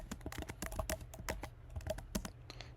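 Rapid typing on a computer keyboard, a close, uneven run of crisp key clicks and taps at moderate loudness with no voices.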